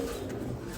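Pigeons coo softly in a brief, low murmur at a home loft, a short fragment with no talk over it.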